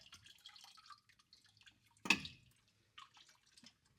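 Engine oil drips from a drained oil filter, landing as one sharp splat midway through, with faint small dribbles and quiet splashes before and after in an otherwise still space.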